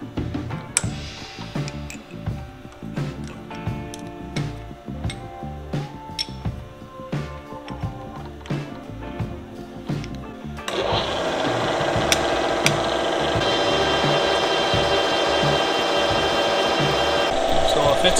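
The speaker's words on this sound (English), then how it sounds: "We're gonna start by drilling a pilot hole." A bit drills a pilot hole on a milling machine during the rebuild of a welded auger bit, first a rhythmic grinding chatter, then a steadier, louder continuous cutting whine in the second half.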